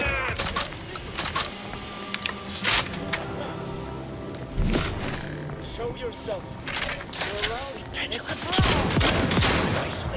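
A shotgun fires in the sci-fi shooter The Outer Worlds 2, with a series of loud, sharp blasts spread through the clip amid other gunfire, mechanical clatter and game effects, while players talk over the action.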